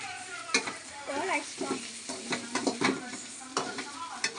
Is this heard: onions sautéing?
yes